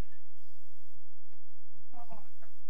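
A pet cat meows a few times near the mic in a quiet home room, with short tonal calls in the second half and faint background noise between them.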